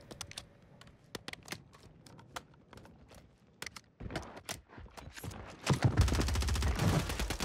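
Gunfire in the video game Warzone 3, with an HRM-9 SMG featured: scattered sharp shots early, then dense rapid automatic bursts building loud near the end, with no talk over them.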